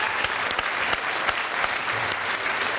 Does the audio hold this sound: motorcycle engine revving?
no